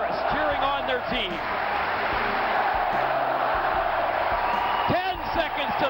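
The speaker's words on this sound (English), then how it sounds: "Fans in chorus cheering on their team." Hockey fans in an arena cheering in chorus for their team: a dense, loud crowd roar with whoops and a few sharp bangs, steady throughout, with a commentator's voice faint beneath.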